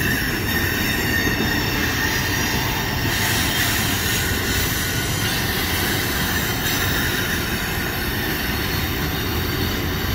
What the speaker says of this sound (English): Definitely one of the longer freight trains that I've filmed here in a while.